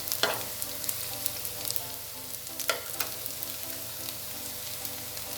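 Onions frying in a frying pan give a steady soft sizzle with occasional crackles and light stirring clicks, close and continuous, with no talking.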